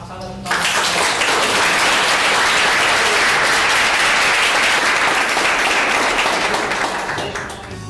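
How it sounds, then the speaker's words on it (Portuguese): Audience applause at a church gathering, a dense, loud wash of clapping that starts abruptly after half a second and holds steady for several seconds before tapering slightly at the end. "Vamos dar uma salva de palmas."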